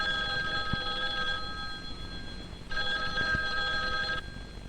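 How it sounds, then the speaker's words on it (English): An old telephone bell rings in two long bursts, loud and close, with a pause between them and no voices. "One day, a telephone rang."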